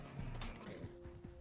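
Horse hooves clop in an uneven, rapid rhythm in Red Dead Online, with a low steady hum underneath, fairly quiet overall.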